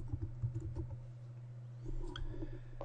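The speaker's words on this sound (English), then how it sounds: "type in the title I want" Quiet keystrokes on a computer keyboard as a title is typed into a spreadsheet chart, a few scattered clicks and short bursts over a low steady hum.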